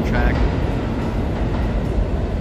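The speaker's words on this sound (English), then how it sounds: "I believe an E train is coming up behind me on the downtown track" An NYC subway E train rumbles in on the downtown track of the IND 8th Avenue Line in Manhattan, a loud, steady low roar filling the platform.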